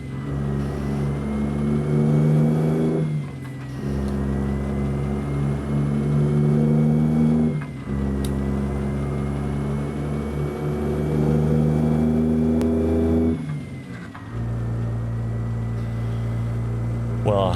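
A heavy truck's engine in American Truck Simulator, driving in Alaska, drones steadily and loud, with clear drops and pitch resets at each gear change, roughly every four seconds, while a voice talks over it.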